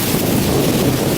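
Roaring Hurricane Irma winds, gusting around 100 miles an hour, batter Disney's Port Orleans Riverside resort at Walt Disney World in a loud, steady, unbroken rush of buffeting noise with no voices.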